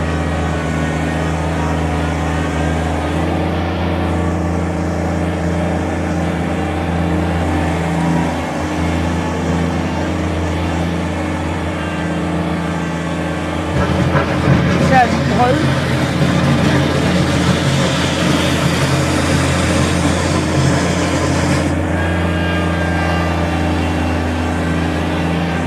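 A 2020 Kubota BX23S compact tractor engine runs in high range with a steady loud diesel drone that rises in intensity midway as it pulls harder, then settles back.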